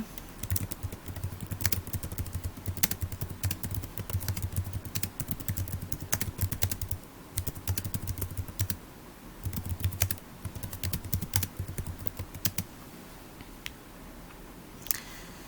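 Rapid typing on a computer keyboard while writing a sentence into a box on screen, a close, steady clatter of key presses in bursts with brief pauses and a final isolated click.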